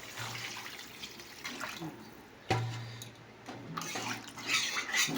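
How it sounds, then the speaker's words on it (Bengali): Water poured into a pot while making tea at home, a steady running splash that swells and surges midway, close by, with faint kitchen clatter. "আমার রান্না এবার আমি জলটা দিয়ে দেবো"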